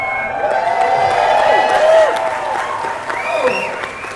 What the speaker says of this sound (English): We know you're out there by how much noise you make and how much you clap.